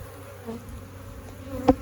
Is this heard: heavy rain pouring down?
no